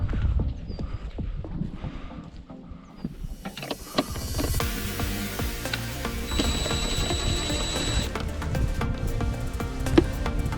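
A 3/8 inch ratchet works spark plugs loose on a 1998 Jeep Wrangler engine. Rapid, close metallic clicking starts after a few quieter seconds and continues steadily to the end.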